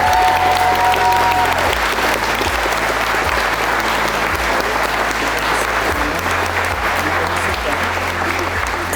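Wedding guests give the newly married couple sustained, loud applause filling the whole stretch, with a brief tone at the start and a low rhythmic hum beneath the clapping.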